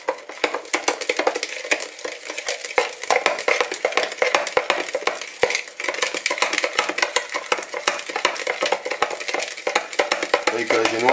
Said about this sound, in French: Vous allez les mélanger à ces 4 œufs et ce sucre